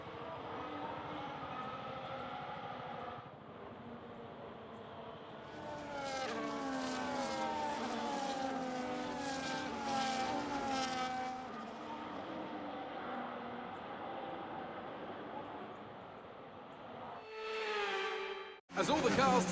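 Formula 1 cars in the F1 25 racing game rumble through the formation lap before the Chinese Grand Prix sprint, engines droning and revving with rising and falling pitch, ending in a sharp burst of louder engine noise.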